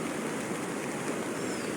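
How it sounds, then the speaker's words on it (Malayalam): A flooded river in Wayanad, swollen after landslides, surges over its banks and tears at its collapsing sides with a loud, unbroken roar of rushing water. "പിന്നെ പുഴ കര കവിഞ്ഞ് ഒഴുകുന്നതാണിത് സൈഡൊക്കെ ഇടിഞ്ഞുകൊണ്ട് ഇപ്പോഴും ഇടിഞ്ഞുകൊണ്ടിരിക്കുകയാണ് വെള്ളം വെള്ളത്തിൻ്റെ കുത്തൊഴുക്കാണ് ഈ കാണുന്നത്"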